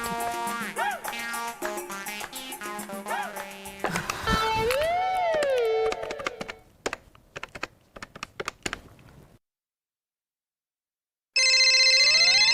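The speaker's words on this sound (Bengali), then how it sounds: "ফোন বাজছে, বিয়ে বাড়ি থেকে নিশ্চয়ই আমাদের ফোন করেছে" A telephone ringing in a Bengali TV serial scene: typing-like clicks and ringtone tones play first, then a pause of near silence before a loud electronic ring bursts in at the end.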